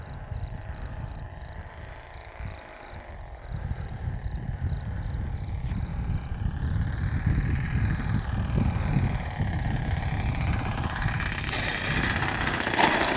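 Thunder Tiger 54 four-stroke glow engine on a 1.5 m HappyTime RC trainer plane, a steady buzzing drone that holds fairly constant and swells slightly louder toward the end, heard outdoors without speech.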